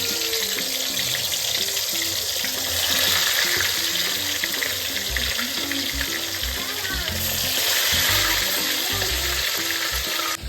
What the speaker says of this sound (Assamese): এতিয়া মই ইয়াত চিকেনকেইডোখৰ ফ্ৰাই কৰি ল'ম।